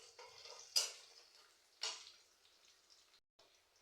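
Green chilies dropped into a pan of frying vegetables, giving two sharp clinks against the pan with a soft faint sizzle and quiet scraping between them.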